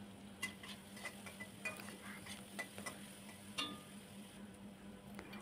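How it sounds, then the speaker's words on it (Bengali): Onion and four garlic cloves fry lightly in a pan as a soft, steady sizzle with a spoon stirring through it, giving intermittent scraping clinks and taps against the metal, quiet and close. "রসুন 4টে আর পেঁয়াজ দিয়ে আমি একটুখানি পেঁয়াজটাকে একটু ভাজা ভাজা করে নেব"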